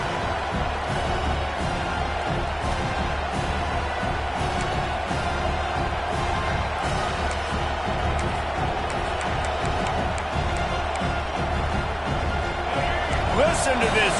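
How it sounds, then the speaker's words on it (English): A large stadium crowd in a football video game roars continuously at a steady, loud level, with a commentator talking over the noise throughout. "Listen to this crowd just shaking the girders of this place, trying to help their defense."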